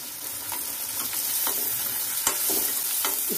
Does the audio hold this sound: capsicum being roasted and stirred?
yes